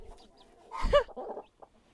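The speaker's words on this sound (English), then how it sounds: "There's nothing like a broody hen, I'm telling you." A broody hen tending her chicks gives a soft, close cluck followed by a few low murmuring clucks, quiet and alone.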